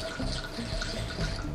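Wine is poured through an aerator, producing a steady, close, rushing liquid stream with gurgling bubbles and splashing, loud and continuous throughout without talk.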